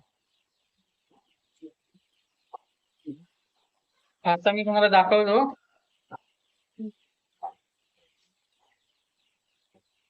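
A chicken on a rainy Konkan farm clucks in one short burst of close calls, with someone talking before and after.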